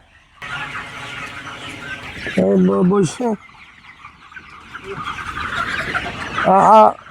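Farm chickens cluck and squawk in short bursts while being fed fermented maize feed, with a couple of loud close calls rising over a constant murmur and some voices in the background.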